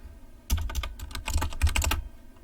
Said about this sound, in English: I don't even care that I'm typing it wrong